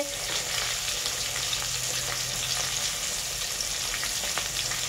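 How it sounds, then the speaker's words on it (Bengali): Fish fry in hot oil in a pan, giving a steady, close sizzle with scattered crackles and pops throughout, continuous and unbroken, with no voices. "দেখুন বন্ধুরা, কি সুন্দর মাছগুলো ভাজা হচ্ছে।"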